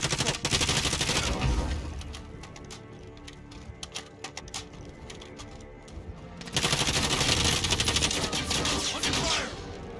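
Gunfire in Call of Duty Warzone: loud bursts of rapid automatic fire open the scene, give way to scattered single shots and clatter, then a second long, dense burst follows.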